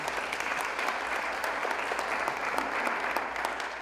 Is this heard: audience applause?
yes